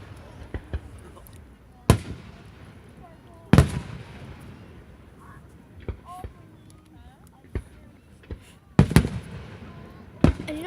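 July 4th fireworks burst at a distance, sharp bangs scattered irregularly, some louder and some fainter, with a few closer, heavier booms and people chatting quietly in between.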